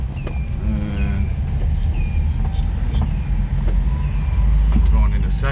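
A Honda Acty mini truck pulls along in first gear, its small engine a steady low rumble under wind noise from the cab, while a person talks over it.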